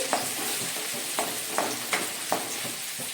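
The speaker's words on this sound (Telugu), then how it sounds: "ఇప్పుడు నెక్స్ట్ ఆనియన్ వేస్తుంది దీంట్లో. ఇవి కొంచెం ఫ్రై అవ్వాలి." Onions fry in oil in a kadai with a continuous hissing sizzle, broken by regular clinks and scrapes of a stirring spoon about every half second.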